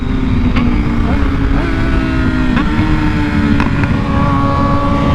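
Kawasaki ZX6R and 2020 Yamaha R6 sport motorcycle engines idle together, a loud, steady droning hum with faint revving shifts and some wind noise throughout.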